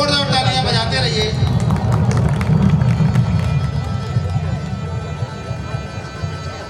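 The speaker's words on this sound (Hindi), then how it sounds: "जोरदार तालियां बजाते रहिए।" An audience at a Jain devotional stage play about Adinath, Bharat and Bahubali, performed at the Vimanji festival in Kolaras in 2022, applauds loudly in a dense, steady roar with voices and music mixed in.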